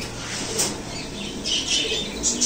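Fancy pigeons, including magpie and yellow short-face breeds, call at a busy pigeon market with a steady, crowded mix of raspy squawks and chatter that overlap throughout.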